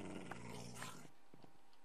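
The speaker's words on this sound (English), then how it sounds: "Look, I'm trying to sit my dog down." Tamed wolf dog in Minecraft growling briefly in a short, close burst, the low rumble fading out after about a second.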